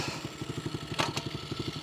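Tao DB14 110cc dirt bike engine idling in gear, a steady low pulsing putter with even rhythm, close by, with a brief clack near the middle.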